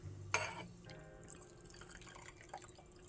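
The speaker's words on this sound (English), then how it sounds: "you'll be able to see the tea pour in" Oolong tea being poured from a gongfu teapot into a small cup, a soft trickle and faint drips that start sharply and then continue quietly, close up in an otherwise hushed room.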